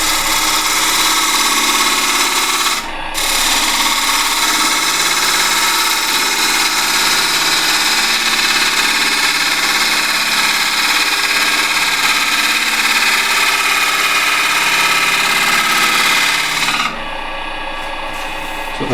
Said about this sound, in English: It's push cut. Let's use the bowl gouge.